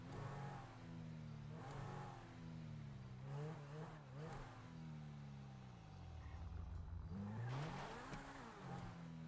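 A car cruising in GTA roleplay, its engine revving up and down repeatedly through gear changes, close and loud, with a few tire-squeal bursts and no talking.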